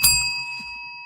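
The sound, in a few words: bell ding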